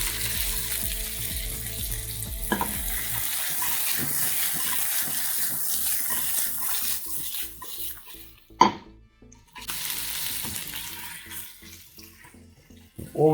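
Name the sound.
vegetables sizzling in a frying pan with pork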